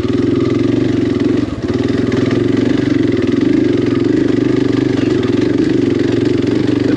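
A KTM 500 XCF-W dirt bike engine chugs at low, steady revs on a tight trail, loud and close, with a brief dip and small surges in throttle.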